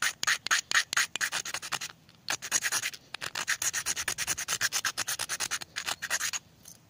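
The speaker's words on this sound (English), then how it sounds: "you take your little saw blade and then you scrape this until you get a little pile of shavings" Saw blade scraped back and forth across a magnesium block to raise shavings, rapid rhythmic rasping strokes in quick bursts with brief pauses, close and moderately loud, no talking.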